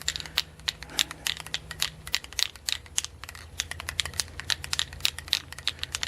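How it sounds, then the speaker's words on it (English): Rapid rattling clicks of a ball knocking inside a spray can, shaken in an irregular rhythm, close and fairly faint, with a low hum beneath. "Supposed to shake it 1 minute after you hear the ball start loose."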